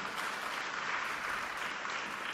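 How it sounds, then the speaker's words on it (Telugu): A church congregation claps together in a steady, even burst of applause that fills the room and carries on without a break for a couple of seconds. "ఒకసారి స్టెఫెన్ కొరకు చప్పట్లు కొడదామా?"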